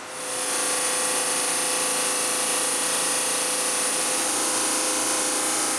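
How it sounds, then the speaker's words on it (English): A drum sander works a piece of mahogany more than 100 years old, giving a loud, steady whining hum with a high tonal edge that holds the whole way through with no talking. "The drum sander does a darn good job"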